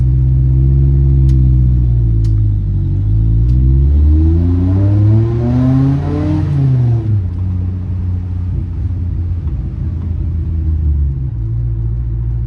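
A Nissan Hardbody pickup with a newly swapped carburetor accelerates hard, its engine revs climbing through a gear, dropping at a shift, then settling into a steady loud drone heard from inside the cab.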